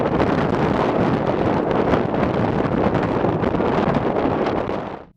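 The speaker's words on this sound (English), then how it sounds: "we see a severe storm and two tornadoes forming and reaching the ground simultaneously" Roaring storm wind around a vehicle during a severe storm with tornadoes, a steady, loud rush and buffeting against the microphone that holds for several seconds before dropping off abruptly.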